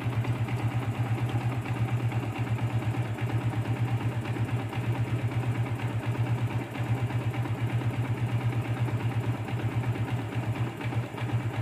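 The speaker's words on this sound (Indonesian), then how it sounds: "Alhamdulillah motor kembali normal, kembali sehat walafiat" A Yamaha Vixion motorcycle engine idles after a torn seal was replaced, with a steady, even low thrum and regular pulsing beat that stays close and constant throughout, with no talk.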